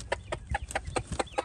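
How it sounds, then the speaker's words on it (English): A hen clucks at close range in a quick run of about seven short, agitated clucks. "Do you hear her clucking at us?"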